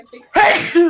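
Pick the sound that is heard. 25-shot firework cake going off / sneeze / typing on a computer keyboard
sneeze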